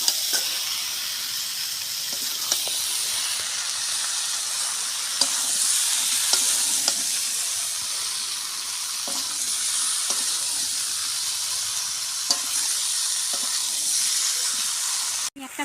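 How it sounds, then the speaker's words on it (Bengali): Boiled jackfruit and potato being stir-fried in spices in a pan, a continuous close hiss of frying with occasional soft clicks and scrapes of a spatula, steady and without talk. "এবার আমি এই সেদ্ধ করে রাখা এঁচোড় আর আলুটা দিয়ে দেবো, দিয়ে এবার আমি আরও ভালো করে কষাবো"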